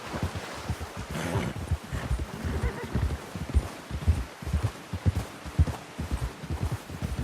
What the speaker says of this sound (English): Get a hold of that horse, Arthur!